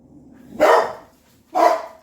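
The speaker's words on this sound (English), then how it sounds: "my dogs are having a fit this afternoon for some reason." Dogs barking, two loud separate barks about a second apart, fairly close, with quiet background between them in a home kitchen.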